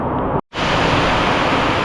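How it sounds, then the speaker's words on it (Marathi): Heavy monsoon rain falls as a loud, dense, unbroken roar of hiss, with one brief dropout near the start and no voices. "पाऊस भरपूर पडला भरपूर आहे"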